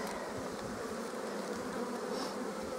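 Honeybees in an open hive drone with a steady, close, layered buzz, many insects humming together at a fairly low level without talk.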